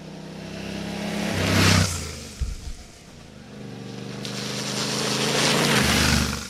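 A Yamaha Tenere 700 motorcycle pulls away, its engine revving up loudly and close, dropping briefly as the gear changes, then climbing again as it accelerates, with wind noise building.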